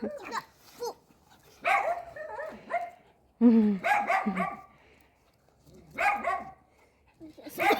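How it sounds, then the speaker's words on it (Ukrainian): A small dog outdoors gives short yips, barks and whimpers in uneven bursts separated by pauses, close and moderately loud, with someone talking softly to it in between. "Кнопа, Кнопа, хорошая собака, хорошая, хорошая, хорошая собака."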